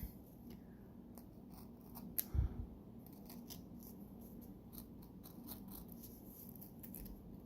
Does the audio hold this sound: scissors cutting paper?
yes